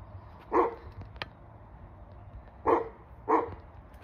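A dog barks three times, short moderately loud woofs with a gap of about two seconds before the last two, over a quiet background with a faint extra click or yip between.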